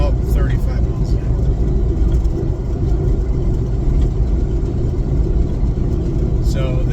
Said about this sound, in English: I'm now driving with my foot on the gas and the brake